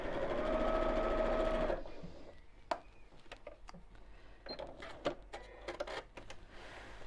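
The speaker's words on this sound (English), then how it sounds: "And then we'll sew diagonally across." A sewing machine sews diagonally across a bag with a bamboo handle, a loud, steady whirring burst close by that stops after about two seconds, followed by scattered clicks and handling noises.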